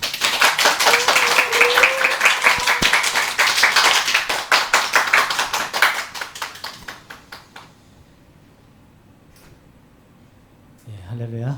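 A church congregation at a Korean worship service claps to welcome a preacher to the front: dense rhythmic applause for about seven seconds that thins out and stops, followed by near silence and then a brief voice.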